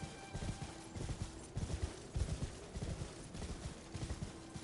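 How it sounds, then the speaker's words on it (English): Horse hooves galloping in the video game Elden Ring, a steady rhythmic clip-clop of rapid thudding footfalls, fairly close and continuous with no voices over it. "Now we do have the horse"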